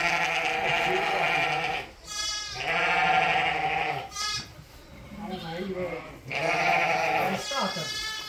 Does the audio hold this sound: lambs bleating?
yes